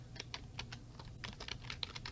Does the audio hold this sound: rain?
no